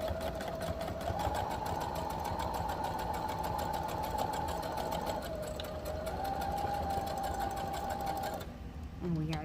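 Sewing machine running a steady straight stitch along a fabric holiday bookmark, a close continuous mechanical whirr that changes pitch slightly partway and stops near the end, with a person speaking over it.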